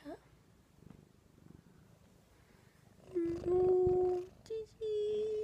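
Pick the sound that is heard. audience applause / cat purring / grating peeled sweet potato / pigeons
cat purring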